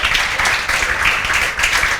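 A roomful of students claps together in a classroom, a dense, steady patter of many hands at close range with no pauses across the whole stretch.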